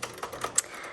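Keys striking on a Royal Sprite ultra-portable travel typewriter from the 1960s or 1970s, a quick uneven run of crisp clacks close up, heard alone.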